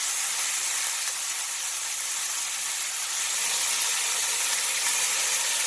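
Pork fillet medallions sizzle steadily in a hot pan, a continuous bright hissing frying sound at a constant level with no voices over it.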